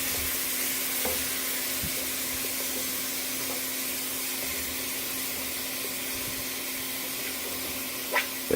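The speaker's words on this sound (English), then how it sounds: "Okay, so we got the hamburger, browning." Ground hamburger meat browning in a pan makes a steady, even sizzle throughout, with a few faint scrapes as it is broken up and no one talking.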